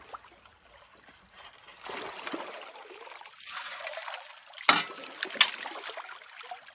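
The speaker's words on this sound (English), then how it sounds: "take your scoop and rinse everything off into the bucket below" Water poured from a scoop rinses gravel material through a classifier grate into a bucket, soft splashing and trickling that swells and fades, with a couple of sharper splashes near the end.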